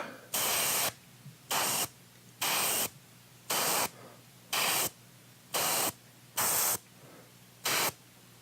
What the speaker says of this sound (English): we're just going to take some black in the airbrush and we're going to spray from below